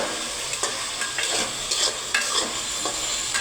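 Taro being fried in a pan with garlic, ginger, chili and spices, with brisk stirring scrapes recurring roughly twice a second over a bright, steady sizzle close by.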